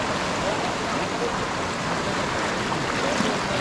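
Strong rushing current of a hill stream at a crossing, a steady broadband roar of fast water filling the whole clip, loud and close with no pauses.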